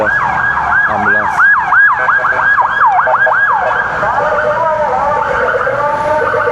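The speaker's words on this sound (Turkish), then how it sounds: "Ambulans." Ambulance siren wailing on an Istanbul street in Beşiktaş near Dolmabahçe, a loud rapid yelp that sweeps up and down repeatedly before settling into a steadier warble, over traffic noise.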